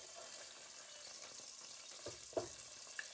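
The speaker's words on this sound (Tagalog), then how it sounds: "So let's put the garlic in." Garlic sizzles in a pan for shrimp sinigang, a soft, even crackling fry with faint stirring scrapes and an occasional louder pop.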